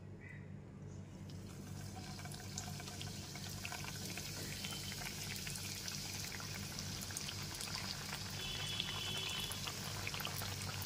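Khaja pastries fry in well-heated oil over a medium flame, giving a soft, even bubbling hiss that holds steady and builds slightly throughout, with no voices.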